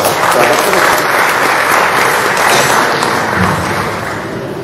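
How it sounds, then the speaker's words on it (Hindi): A large crowd applauds steadily and loudly at a Lucknow University event, a dense wash of clapping that fades slightly toward the end. "बहुत जोरदार तालियों से"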